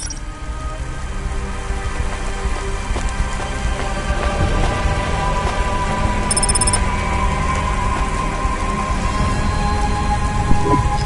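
Steady rain beats down on surfaces in the Cloudpunk video game city, with low rolling thunder rumbling beneath a constant dense hiss and no voices.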